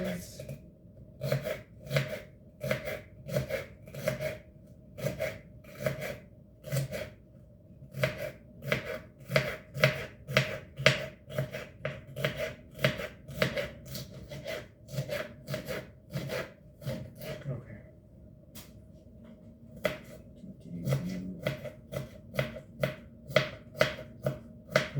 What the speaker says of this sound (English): I then do like a cross dice just to have it super like diced up.